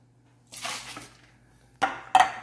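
Dishes being washed with soap at home, with a burst of scrubbing and sloshing followed by two sharp clinks of plates or pots close by, no talking.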